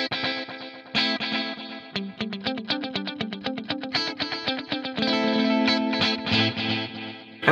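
An electric guitar played through the tape echo mode of a BOSS 500 Series pedal, picked notes in a quick rhythmic run with repeats trailing behind each one, then a sustained chord ringing out near the end.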